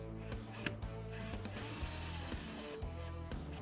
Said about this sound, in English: Back to our drill, I've now put a Phillips head in, and I'm going to just drill that into place.